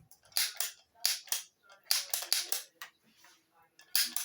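Butter cookie dough for Italian butter cookies being pressed from a cookie press onto a baking sheet, heard as a series of sharp clicking bursts in pairs and clusters, fairly close and moderately loud with no talking.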